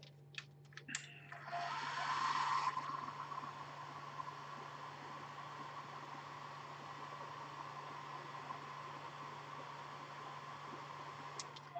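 A hair dryer blows on a freshly painted metallic miniature figure, a steady faint hiss that swells briefly louder near the start and then holds an even, quiet whoosh with no talking.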